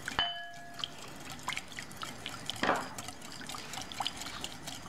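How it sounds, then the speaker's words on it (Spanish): Oil trickling into a bowl of orange juice and mustard dressing for a mixed salad, a soft liquid pour with faint drips and a brief gurgle, heard close with no talking. "El aceite, para que haga una liguita."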